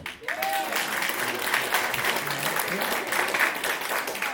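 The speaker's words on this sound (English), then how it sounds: "Before we get started, clap your hands." A comedy club audience in Toledo, Ohio claps hands together, a dense continuous burst of applause that holds steady for several seconds without speech over it.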